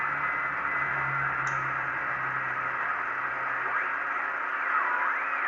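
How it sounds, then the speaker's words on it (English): A Yaesu FT-101 radio receiver tuned to an FT8 signal gives a steady wash of hissing static with faint tonal warbling and a few sliding tuning whistles, continuous throughout. "it sounds like I found like the FT-8 signal"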